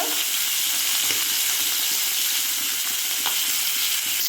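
Fish frying in a pan for a light curry with new potatoes gives a steady, close, dense sizzle with occasional crackles and pops, with no voices over it.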